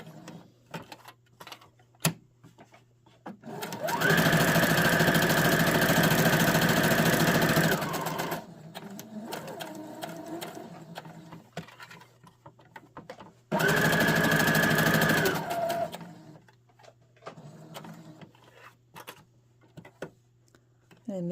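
A sewing machine stitches fabric in two bursts of steady, fast mechanical whirring, one long and one shorter, with quiet pauses, soft clicks and a little talk between them.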